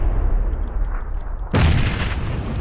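A grenade blast in the battle-royale shooter PUBG bursts in suddenly halfway through, a loud, broad boom over steady ambient game noise.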